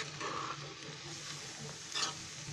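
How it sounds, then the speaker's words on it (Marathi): Ghevda flat beans cooking with tomatoes in hot oil sizzle steadily while a spoon stirs and scrapes the pan close by, with one brighter clink near the end. No voices. "थोडं आता 1 मिनटं मी चांगली हलवत राहते"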